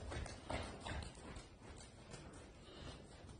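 A dressage horse's hooves clip-clop at a steady, even pace during a riding lesson, moderately close over faint background noise.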